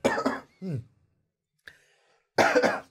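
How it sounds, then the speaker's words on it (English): A couple of short coughs, then a brief throat-clearing rasp, a pause with a faint click, and another burst of coughing, close and clear. "I need to clear my throat"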